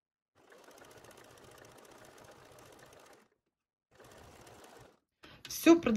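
A sewing machine stitches cord for a basket in two close, even runs of rapid mechanical chatter split by a short pause, then a louder burst of handling noise at the end.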